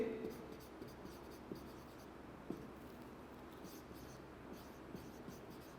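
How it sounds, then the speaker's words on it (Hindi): Chalk or marker scratching on a board during a chemistry lecture, a faint steady scraping with a few light taps, heard in a quiet room without clear talking. "नेक्स्ट मैं यहाँ पे लिख रहा हूँ"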